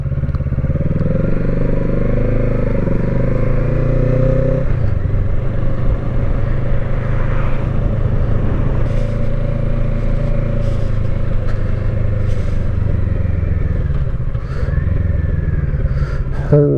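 A Kawasaki Z650 motorcycle on the road with the throttle opened, a loud continuous engine drone with a gear change partway through, heavy wind rush and faint clatter.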